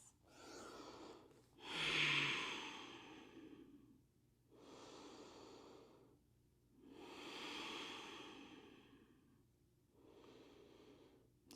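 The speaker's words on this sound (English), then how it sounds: "Just a few more breaths." Slow, deep breaths during a yoga flow session, close and clear: a sharp nasal inhale followed by long, drawn-out exhales, repeating about four times in an unhurried rhythm with quiet pauses between.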